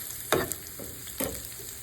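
Garlic frying in a pan for a Filipino labong (bamboo shoot) and egg dish, a soft steady sizzle broken by two sharper bursts of stirring or scraping, close and moderately quiet with no talk.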